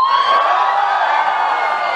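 A college audience at a live comedy show screams together in one loud, sustained, shrill roar with whoops, filling the whole moment without a break.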